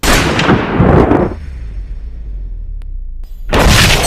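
An exploding sniper bullet fired in the action film Sniper: Ultimate Kill, heard as a loud, heavy blast with a booming roar that fades to a low rumble, then another loud burst near the end.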